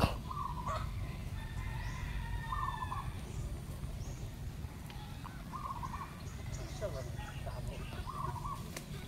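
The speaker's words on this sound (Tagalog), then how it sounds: "Daming manok." Many chickens calling and clucking in rural farmland, repeated short calls near and far over steady outdoor background noise, with people talking intermittently.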